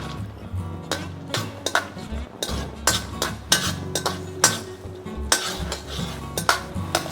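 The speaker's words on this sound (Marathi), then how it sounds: "काजू बियो बरे भाजिल्ले आसात" Cashews being roasted and stirred in a pan for dry fruit ladoo, with repeated close metallic scrapes and clinks of a spoon against the pan in an uneven rhythm over a faint low background.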